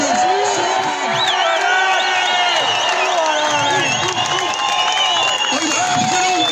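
A large protest crowd in Cork City, Ireland, cheers and whoops loudly and continuously, with overlapping shouts and some clapping forming a dense, close roar.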